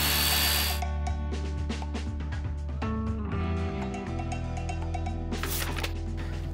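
A Bosch GBH 185-LI brushless cordless rotary hammer drilling, its high motor whine spinning up and shifting pitch several times at close range, with a short burst of rattling and hammering near the start and again near the end.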